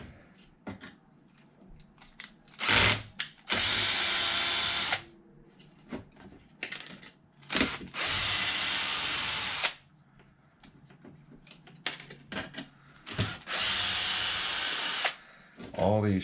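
Power driver removing screws from an Arrma Limitless RC car battery tray, three long whirring bursts of a few seconds each with quieter clicks and handling between them.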